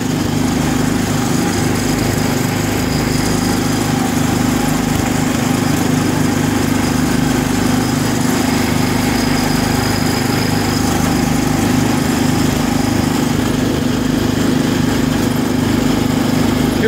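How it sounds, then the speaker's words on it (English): A John Deere 316 or Cub Cadet 86 garden tractor's small engine drones loudly and steadily at close range, a constant rumbling hum running without pause. "driving garden tractors around on a sunny Saturday"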